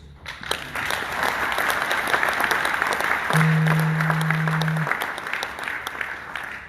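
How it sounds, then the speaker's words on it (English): Round of applause from an audience at a national president's meeting, a dense steady clapping that swells in quickly and holds for several seconds. "I think they all deserve a round of applause."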